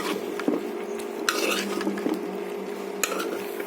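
Cut cucumbers stirred with tomatoes and spices in a pan for a cucumber and stinging catfish curry, a spoon scraping and clinking against the metal in a few sharp knocks over a steady low background hum.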